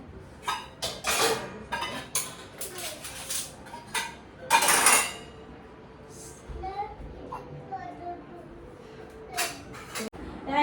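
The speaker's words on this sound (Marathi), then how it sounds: "चला आता भांडी वगैरे घासलेली होती ती थोडीशी लावून वगैरे घेते" Washed steel pots and dishes being stacked and put away in a home kitchen, with scattered clinks and clatters and one louder metallic clatter midway, with a child and an adult talking at moments in between.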